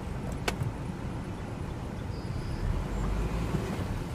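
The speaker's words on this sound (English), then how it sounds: "Car goes forward." A car with its check engine light on moves forward, giving a steady, fairly quiet road rumble and broadband noise throughout, with a brief sharp tick near the start and no one speaking.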